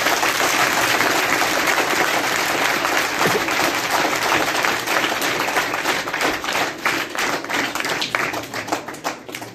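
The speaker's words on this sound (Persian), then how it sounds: "یک تشویق کنین" Applause from an audience at a gathering in Mali, dense steady clapping that fills the whole stretch, loud and close, thinning slightly toward the end with sharper individual claps.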